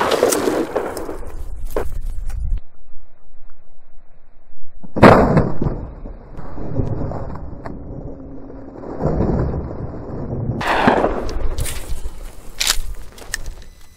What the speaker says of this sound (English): I'm gonna shoot that can right there.